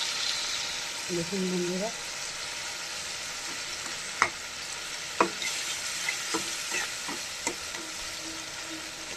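Turmeric-spiced food fries in a hot wok with a continuous soft sizzle, broken by occasional sharp clicks of stirring, while a voice speaks briefly over it.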